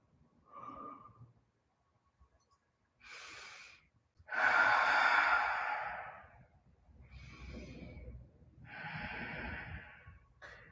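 Slow, deep breaths during an all-levels yoga flow: several separate inhales and exhales, each with a short pause before it. They are close and airy, the strongest ones rough and forceful, and no one speaks.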